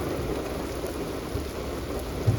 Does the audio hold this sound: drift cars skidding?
no